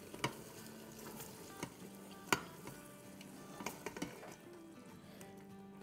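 Soya chunk curry masala with leftover yogurt sizzles softly as it is sautéed again in a cooker, with scattered sharp scrapes and taps of a spoon stirring against the pot.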